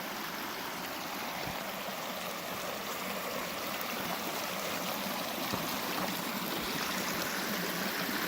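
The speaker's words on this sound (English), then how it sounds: "Cool little snow melt stream." A small, crystal-clear snowmelt stream on a high Colorado mountain ridge trail near 12,300 feet flows with a close, steady rushing and trickling babble that stays even throughout and has no voices.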